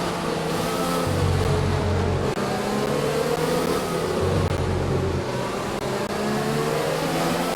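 A race car engine in a racing video game, on the China circuit, drones loudly and continuously with rising and falling revs as gears shift, up close and without talk.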